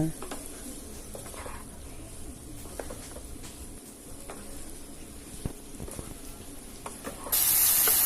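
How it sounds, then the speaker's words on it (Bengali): Jackfruit and potato are stirred into frying masala, a soft continuous sizzle broken by scattered scraping clicks of the spoon against the pan, with a louder hiss rising at the very end. "আলু ও ইঁচড় দিয়ে দেওয়ার পরে ভালো করে মশলার সাথে আলু ও ইঁচড়টা ভালো করে মিশিয়ে নেব।"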